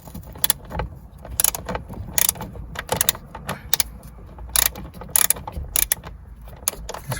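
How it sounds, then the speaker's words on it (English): Two 7mm bolts come out of the front heater blend door actuator area on a Ford Expedition, with a close series of irregular metallic ticks, clinks and rattles of a small wrench working. "first thing you want to do is remove these two bolts right here"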